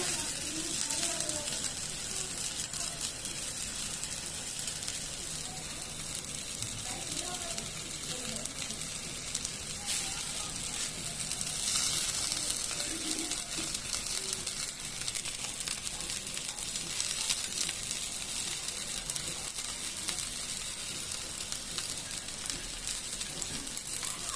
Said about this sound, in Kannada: ನೀವು ಪ್ಯಾನ್ ಮೇಲೆ ಮಿಕ್ಸ್ ಮಾಡ್ಕೊಂಡಿರುವ ಮೀನುಗಳನ್ನು ಹಾಕೊಳ್ಳಿ